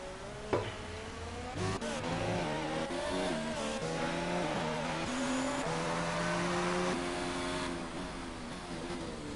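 Engine drone of F1 cars on a formation lap in a racing video game at Bahrain, a steady loud roar with rising and falling revs throughout, holding close and continuous from start to finish.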